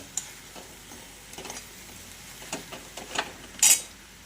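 Quiet scraping and light sizzling as masala for drumstick curry is stirred in a pan, with scattered soft clatters and a sharper scrape near the end.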